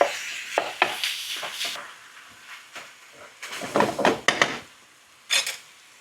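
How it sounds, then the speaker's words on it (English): Ground beef being broken into crumbles in a big pan with a utensil for a keto beef and cauliflower curry: intermittent scraping, clacking and sizzling strokes, close and fairly loud, with short pauses between bursts. "all I'm going to do is break up this guy and into little individual pieces or crumbles"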